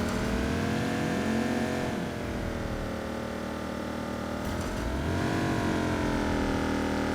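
A car engine revs and drones close up while driving in the Watch Dogs 2 video game, its pitch rising and falling through gear changes, with no talk.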